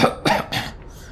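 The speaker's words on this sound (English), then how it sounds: "His excitement sets off a long series of hacking coughs." A video game character in Planescape Torment lets out a short burst of harsh, hacking coughs, three quick rasping bursts, close and unaccompanied.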